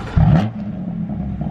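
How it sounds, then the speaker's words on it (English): A BMW F80 M3 with its exhaust valves open fires up at close range, giving a short, loud burst and a rev that settles into a deep, rumbling idle. "I'm gonna start the car for you guys with the valves open so you guys can hear it."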